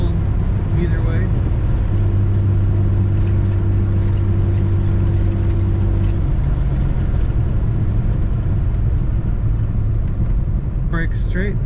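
A 1983 Ford Mustang GLX convertible drives along with a steady, loud engine and road rumble, a low hum holding for several seconds before easing, and a voice talking over it.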